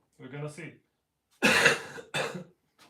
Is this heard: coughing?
yes